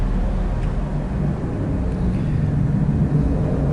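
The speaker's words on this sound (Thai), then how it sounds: "ช่วงนี้ก็จะได้ยินเสียงเครื่องบินนะครับ สตาร์ทเครื่องนะ เป็นการเบิร์นเครื่องนะครับตอนนี้" An airplane engine runs up after starting, a steady loud low roar and broadband rumble that continues without a break, heard in the distance behind the speaker.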